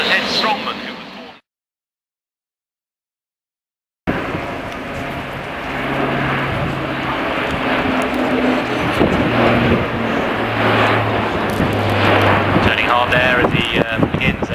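An Airbus A400M military transport aircraft roars through an air display as it begins a zoom climb, a sustained loud drone with wind buffeting after a brief dropout, and tonal hums rising and shifting throughout.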